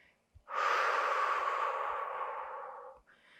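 A long, strong exhale blown out through the mouth during a Pilates leg-strengthening exercise, close and breathy, rising sharply and fading over about two and a half seconds, with a short breath before and after.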